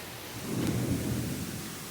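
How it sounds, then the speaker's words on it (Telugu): Heavy rain pours steadily with a low rumble of thunder rolling underneath, loud and close, no voices. "వాన గట్టిగా పడుతుంది"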